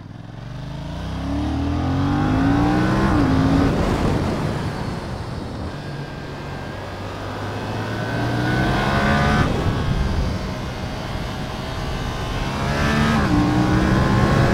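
A Yamaha XSR700 motorcycle on Pirelli Diablo Rosso III tyres ridden hard, its engine revving up and down through repeated gear changes, loud and close, with steady wind roar throughout and no talking.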